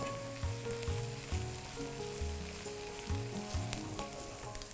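Oil heats in a pan before surmai fish is fried for a fish curry, giving a steady sizzle under background music with a few sharp crackles.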